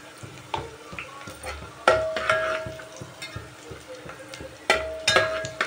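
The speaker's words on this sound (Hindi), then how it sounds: "अब हमारा प्याज पकने लगा है।" Onions fry for chole in a pan, with a soft sizzle under repeated stirring and the clink of a spoon against the metal pot, close up with scattered louder scrapes.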